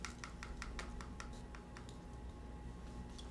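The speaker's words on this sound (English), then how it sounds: "I'm going to cut the lime open" A knife cuts through a tough-skinned lime on a cutting board, giving a run of quick, faint, regular taps that thin out and stop.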